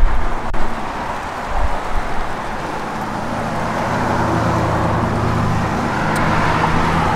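1967 Pontiac LeMans convertible on the move, engine rumble mixed with steady road and tyre noise, fairly loud and continuous with a couple of brief swells near the start, no talk.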